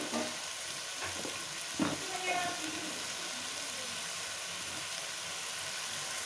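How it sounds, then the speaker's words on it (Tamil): Tomatoes sautéing in a pan for tomato kulambu over a low flame, a steady hissing sizzle with a couple of soft stirring scrapes early on. "இப்போ தக்காளியை வந்து நல்லா வதக்கி விடலாம்."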